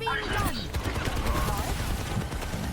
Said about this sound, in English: But the Pharah is shooting.